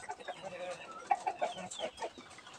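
Native chickens and crossbred roosters clucking close by, a run of short, uneven clucks and calls with steady farmyard background.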